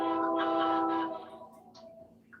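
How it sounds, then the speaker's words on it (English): Train horn blares loud with a steady harmonic tone for about a second, then fades into a distant rumble as the train moves on. "Somebody got a train. Who's got the train?"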